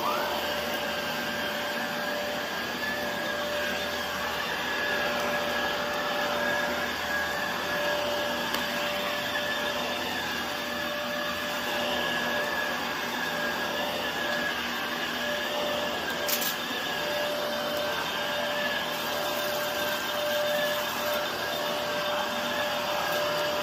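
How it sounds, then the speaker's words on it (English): A vacuum cleaner runs steadily and loudly throughout, with a constant motor whine and airflow hiss and a brief knock near the end, no speech. "I got my vacuum ready. Let's go ahead and get started"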